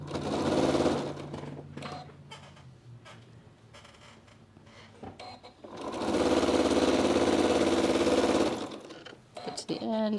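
A sewing machine stitches fabric for an elephant craft, running in a brief loud burst, going quiet, then a longer sustained run, with a few faint clicks between.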